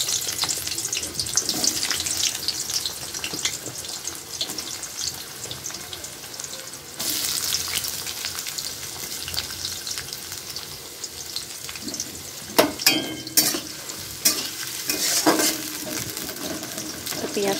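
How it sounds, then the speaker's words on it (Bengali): Onions sizzle in hot oil in a home kitchen pan, with steady frying crackle and occasional stirring and clattering bursts, heard close throughout. "পেঁয়াজটাকে একদম লাল লাল করে ভাজতে হবে।"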